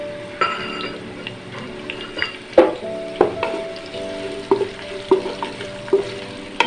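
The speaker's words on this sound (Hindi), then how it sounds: "प्याज को हम ब्राउन करेंगे क्योंकि ये है पुलाव" A finely chopped medium onion browns in ghee for beef pulao, a steady close sizzle broken by a regular series of sharp spoon clicks and scrapes against the pot.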